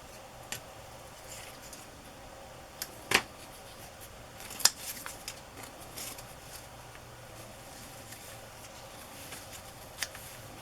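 Scissors cut paper for a collage in a quiet room, making a few sparse, sharp snips spaced several seconds apart.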